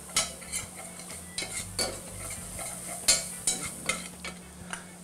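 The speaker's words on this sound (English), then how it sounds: "Next, we're going to add our flour and cook it for about a minute to get rid of that flour flavor." Flour cooking into a roux for shrimp chowder, stirred in a pot with a utensil: repeated distinct scraping and clinking strokes over a low sizzle, close up and without speech.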